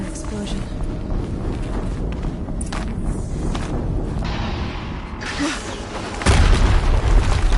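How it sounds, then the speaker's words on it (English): A low boom erupts in the game Horizon Zero Dawn against a constant rumbling, busy background of clatter and thuds, with a heavier, louder blast swelling in near the end. "Another explosion."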